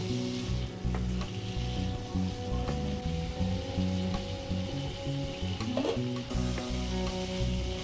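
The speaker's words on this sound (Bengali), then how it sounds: "এবার ভালো করে কড়া করে ভেজে নেব।" Fish fat frying crisp in hot oil, a continuous crackling sizzle with occasional pops, close by and without talk.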